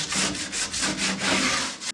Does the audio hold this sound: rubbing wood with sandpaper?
yes